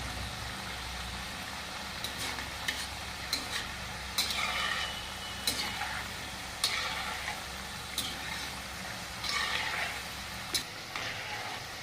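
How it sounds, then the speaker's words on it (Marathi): Jaggery kapanya sweets deep-fry in hot oil on a full flame, a steady bubbling sizzle with occasional light scrapes and clinks of a slotted spoon, fairly faint and without speech. "आणि एकदम मस्त असं तळून घ्यायचं आपल्याला सगळ्या"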